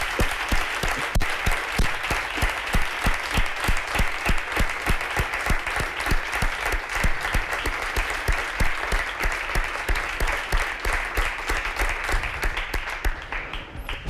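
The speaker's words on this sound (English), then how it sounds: "Big round of applause for Mr. Waldinger." A live audience applauds a speaker after a talk, loud sustained clapping with a rhythmic pulse as hands fall partly into sync, fading slightly near the end.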